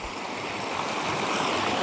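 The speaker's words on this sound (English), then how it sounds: "Had a decent one hit, man. In that swift water." Swift water of the Williams River rushes steadily during late-season trout fishing, a dense, continuous broadband wash with no breaks, fairly close and alone without voices.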